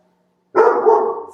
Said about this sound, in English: Sorry about the barking. I think he's barking at my chickens.